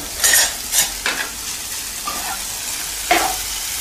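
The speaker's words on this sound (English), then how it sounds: "stir frying, nothing too hectic" Vegetables stir-fried gently in a hot pan while being prepared for a comfort-food dish, with a few sharp bursts of sizzling and stirring scrapes that rise briefly and then settle into a low, steady crackle.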